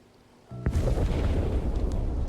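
Fireworks bursting in the video game Many Nights a Whisper: a sharp pop followed by a sustained, loud, rumbling roar of explosions that fills the rest of the moment, with no talking.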